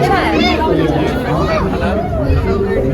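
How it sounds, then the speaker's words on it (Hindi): A dense crowd fills the fish tunnel at Jhansi Mahotsav with loud, continuous overlapping chatter close around, many voices mixing into an unbroken hubbub. "बहुत सारी भीड़ है।"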